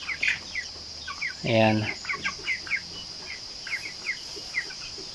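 Broiler chickens cluck in a pen, with a run of repeated soft clucks and chirps at moderate distance and a brief spoken word over them.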